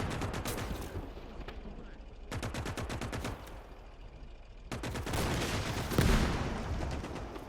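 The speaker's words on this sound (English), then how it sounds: "And the mortar's coming in." Incoming mortar fire and battlefield gunfire in the WWII Eastern Front game Call to Arms, with rapid bursts of shots, loud booming impacts and a heavy explosive thump near the end.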